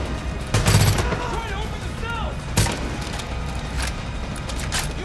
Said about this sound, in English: Switch to my machine gun for a bit.